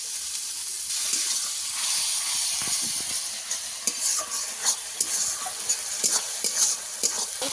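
Ground spices with cumin paste and a splash of water sautéing in oil in a pan, a soft continuous sizzle and hiss under brisk spatula stirring scrapes and taps that grow busier toward the end, close by.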